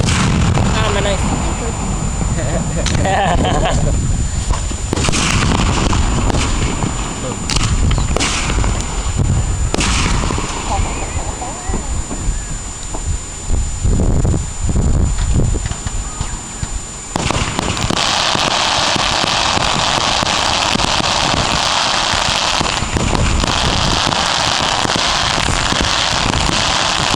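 Fireworks set off outdoors in Mount Carroll burst in a rapid, irregular barrage of loud cracks and booms over nearly half a minute, with people talking between the blasts.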